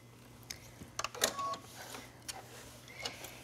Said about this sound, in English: So let's go ahead and sew that armhole.